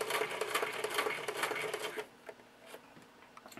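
A sewing machine stitches a curved seam in fabric, a fast close mechanical whir for about two seconds, then slowing into a few separate stitch clicks as the fabric is turned.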